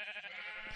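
A single sheep bleat from Minecraft, a short nasal wavering baa, faint and lasting under a second with no other sounds around it.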